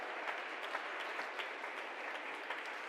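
A church congregation applauds steadily, a dense, even patter of many hands clapping at moderate volume throughout, with no voices rising above it.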